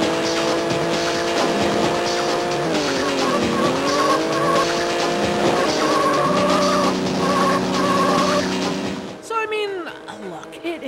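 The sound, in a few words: race cars skidding in Need for Speed Porsche Unleashed video game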